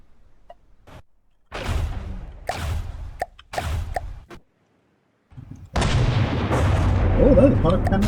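Heavy shots from a particle cannon in the From the Depths vehicle combat game, several loud booming blasts in quick succession with sharp decays, a pause, then a sustained roaring burst of impact and rumble.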